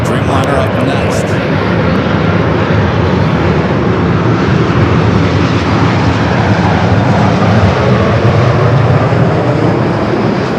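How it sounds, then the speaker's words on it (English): A Boeing 787 Dreamliner roars loud and continuous on the runway at LAX, a broad engine rumble filling the scene with faint radio chatter underneath. "Dreamliner up next."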